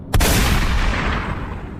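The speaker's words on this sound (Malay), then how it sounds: "Dan satu ledakan bergema." A single loud shotgun blast, used as a sound effect in a narrated hunting story about a wild boar, cracks sharply and then echoes into a long, fading rumble.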